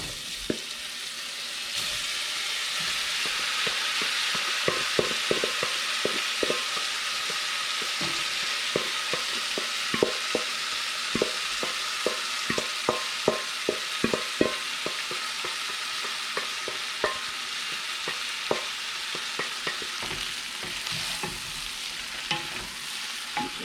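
Jumbo shrimp fry in butter in a hot pan, giving a steady loud sizzle with frequent stirring clicks and scrapes throughout, no voices.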